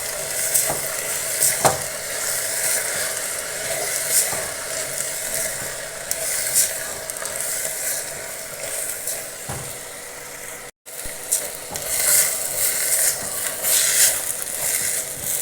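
Washed chickpeas for kadala curry frying in a pan while being stirred, giving a steady close sizzle with intermittent scraping clinks and a brief break partway through.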